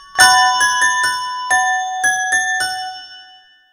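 Bright ringing bells strike several loud, resonant tones one after another in a chiming rhythm, each note ringing on and overlapping the next before fading out.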